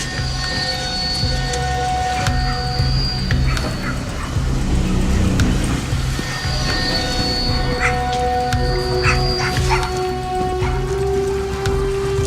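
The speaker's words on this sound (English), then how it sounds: "the dogs, it really piques their curiosity when you walk up through the woods as to what you are and what you're doing, so they bark" Dogs barking in rural Appalachian woods, the yelps and whimpers mixed with yips, heard moderately close over a steady background of other noise with no clear talk.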